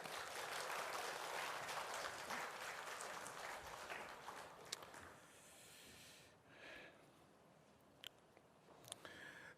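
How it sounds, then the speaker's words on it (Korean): Church congregation applauding to welcome an elder at a Korean service, a warm burst of clapping that tapers off midway, leaving scattered claps and quiet room noise. "우리 박수로 우리 장로님을 환영하겠습니다."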